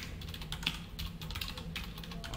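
Quiet, fairly close typing of code on a computer keyboard, a quick irregular run of soft key clicks with a few sharper taps, heard alone.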